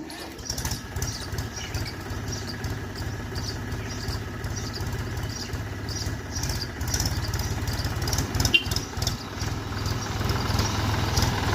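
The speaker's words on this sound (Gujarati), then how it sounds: "મિત્રો ફાઇનલી હું છે તે ટ્રેક્ટર લઈને આવી ગયો છું ખેતરમાં" A tractor engine chugs at a steady, low idle throughout, its regular thumping pulse rising slightly toward the end, with no talking.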